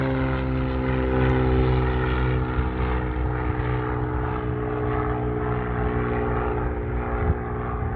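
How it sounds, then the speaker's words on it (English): A Cirrus propeller aircraft drones overhead on a fine day in Kalamazoo, a steady loud buzz that slowly fades as it passes. "Cirrus aircraft."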